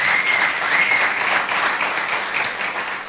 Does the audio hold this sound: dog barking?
no